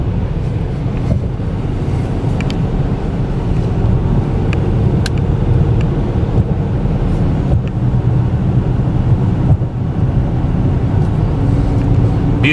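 A 2013 Dodge Charger R/T accelerates with a loud, steady engine roar that stays close and continuous, with no talk over it.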